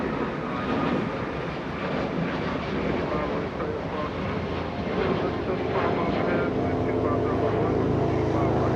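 A Delta Airbus A321 airliner at Los Angeles International Airport makes a loud, steady broadband jet roar that fills the whole span without letup, with a faint voice underneath.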